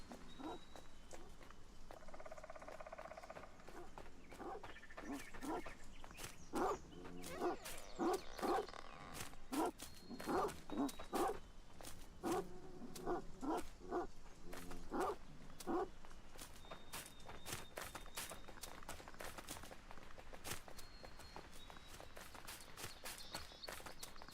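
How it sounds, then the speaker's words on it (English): Dogs in the survival video game ASKA bark and scamper amid footsteps, with a cluster of short barks in the middle and faint game sounds around them. "Oh, you're barking at the fact that you're out of pet food."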